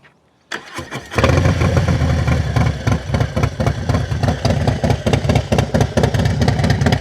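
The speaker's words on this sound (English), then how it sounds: "Hang on a second, I'll start it up for you guys and see what you guys think." A Harley-Davidson Low Rider ST motorcycle engine cranks with a brief starter whir, then fires and settles into a loud, close, lumpy idle with a rapid uneven chop.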